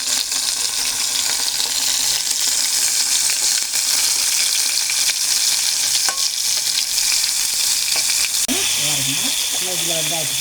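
Dried ghee-fish (karuvadu) frying in a pan, a dense, loud, crackling sizzle running throughout, with a short burst of a voice near the end.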